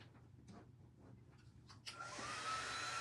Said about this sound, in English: So we're just going to dry that really quick.